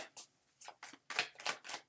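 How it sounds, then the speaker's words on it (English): Tarot cards shuffled by hand, about six quick riffling bursts in a rapid uneven rhythm, close and fairly soft, no speech. "the way I do my readings is I shuffle till one card falls out"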